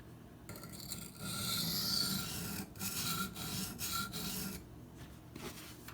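A Cold Steel Demko AD-15 knife with a wavy edge is sharpened in steady rasping strokes, each a gritty, close scrape with short pauses between passes.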